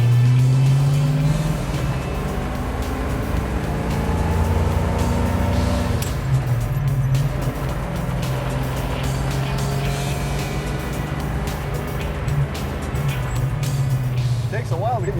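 A 1969 AMC SC/Rambler or 1970 AMC Rebel Machine muscle car driving, its loud V8 engine droning steadily with rising and falling revs and road rumble, with people talking inside the car.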